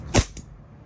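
An E&C Hicapa 5.1 airsoft pistol fires once, a sharp snapping crack followed by a fainter second click, close and brief in a quiet room.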